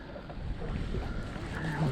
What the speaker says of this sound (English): here comes a good old gust of wind